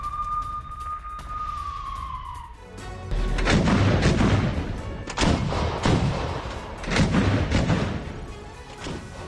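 A siren-like tone fades out, then several deep, heavy booms of Russian military artillery fire on Ukrainian positions roll in, the blasts loud and reverberant with rumbling tails.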